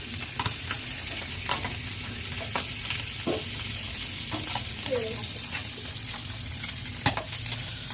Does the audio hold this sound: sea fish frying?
yes